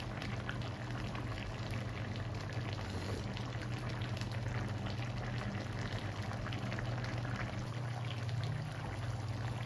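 Northern Thai hang lay curry simmering in a pot, a steady, continuous bubbling hiss with a low hum underneath, unbroken for the whole stretch and without voices.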